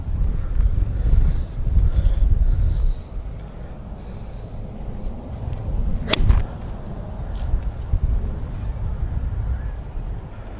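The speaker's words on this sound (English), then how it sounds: "The wind is blowing me over, guys." Strong outdoor wind buffets the microphone in loud, rumbling gusts, heaviest over the first few seconds before settling into a steadier, lower roar with occasional sharper blasts.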